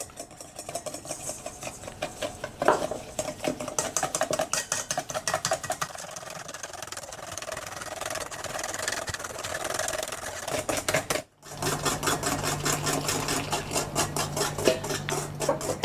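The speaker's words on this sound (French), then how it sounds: "je vais blanchir mes jaunes d'œufs" Egg yolks being whisked with sugar in a bowl for île flottante custard, a steady rapid clatter of whisk against the bowl running throughout, with a brief pause near the end before the beating resumes.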